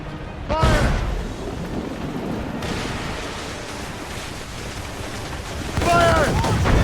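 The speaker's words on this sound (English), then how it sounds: "Cannon ready! Another wave of fire ships, Captain! Fire!" Naval battle in the video game Assassin's Creed Rogue, with booming cannon fire and explosions over rushing waves and wind, a burst near the start and another near the end.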